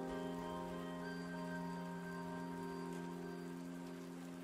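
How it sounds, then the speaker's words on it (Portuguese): A passing rain shower patters steadily on surfaces, a dense even hiss laid over a sustained tonal hum that runs throughout. "Deve ser uma chuva passageira."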